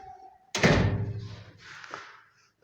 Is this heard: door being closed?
yes